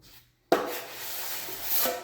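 A drywall trowel drags across wet drywall compound in one close, steady rasping stroke that begins abruptly after a brief quiet moment and continues to the end.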